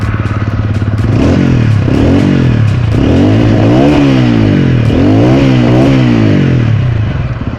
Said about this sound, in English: TVS has worked a lot on the exhaust note. This sounds really grunty and bassy.